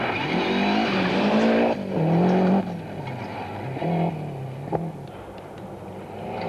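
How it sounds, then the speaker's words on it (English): A Subaru rally car drives a stage of the 1991 Lombard RAC Rally, its engine loud and close, revving and shifting as it passes, with the pitch rising and falling. "Ari Vatanen, equal 5th fastest here, keeping the Subaru in the middle of the track."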